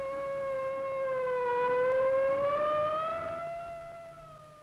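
A wailing siren rises and falls slowly in pitch, loud and steady, sounding alone for several seconds before fading slightly.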